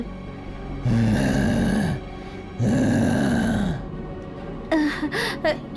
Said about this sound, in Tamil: வித்தியாசமா மூச்சு விடுற மாதிரி ஒரு சத்தமும் கேட்டுச்சு